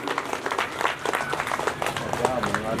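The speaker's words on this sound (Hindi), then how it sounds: "लिए भी ताली बजाइए" Audience applause at a Bhagavat katha, a steady spatter of many hands clapping through the whole stretch, with voices mixed in beneath.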